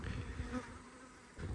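Honey bees buzzing during the removal of a decade-old colony, a faint, brief swarm hum with buzzing that rises and falls close by.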